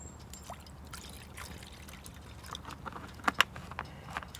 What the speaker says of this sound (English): Now, put a little bit more water in here, chuck the rice in